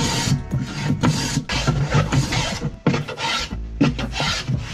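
A file rasps a chamfer onto the top edge of a wooden strip for a homemade storage box, in rapid rhythmic back-and-forth strokes that are close and fairly loud, with short pauses between bursts.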